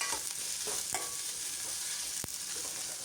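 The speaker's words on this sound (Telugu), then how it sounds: "ఈ ఉల్లిపాయలు కూడా మంచి కలర్ వచ్చే వరకు వేయించుకోవాలి." Onions fry in a pan until they brown, giving a quiet, continuous sizzle. A few sharp clicks from the stirring utensil cut through it.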